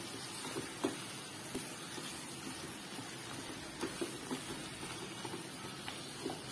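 Capsicum fries in a pan for prawn gravy, giving a faint, steady sizzle with occasional soft pops and light stirring clicks and no speech.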